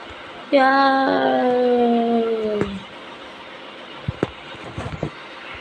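A young dog lets out a single drawn-out, wavering howl-whimper lasting about two seconds, followed by quiet with a few soft knocks and shuffles.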